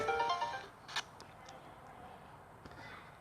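Alert warning tone from the Summon Night Swordcraft Story 2 video game, a short bright electronic burst at the start, then near quiet with a few faint clicks.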